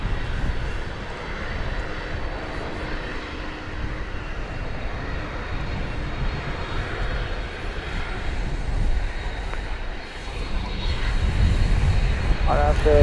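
An MD-11 jet moving at night at DFW Airport gives off a steady, broad engine roar that swells slightly toward the end. The sound is continuous and moderately distant, and a voice speaks over it.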